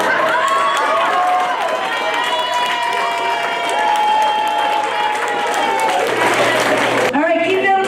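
Audience applause and cheering at a school 5th grade poetry slam, a steady loud wash of clapping from a crowd with whoops lasting throughout, briefly dipping near the end before swelling again.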